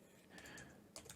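Faint typing on a computer keyboard, a few quiet key taps heard close by during a 3D texturing session, with no talk.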